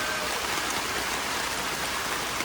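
Steady rain pattering on a tent at a lakeside campsite, a dense, even hiss of drops close by with no voices.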